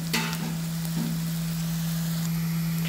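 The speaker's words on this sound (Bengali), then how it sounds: "দেখুন যথারীতি পেঁয়াজগুলো সর্টে হচ্ছে" Onions sauté in a pan for a chicken curry, giving a steady, close sizzle with occasional stirring clinks over a constant low hum.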